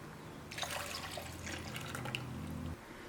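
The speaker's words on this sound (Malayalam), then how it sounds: "ഇതിലേക്ക് ബാക്കിയുള്ള മിൽക്ക് ചേർക്കാം." Remaining milk poured into blended almond paste for spiced almond milk, a steady liquid splash and trickle lasting a couple of seconds, close and moderately loud, then stopping abruptly.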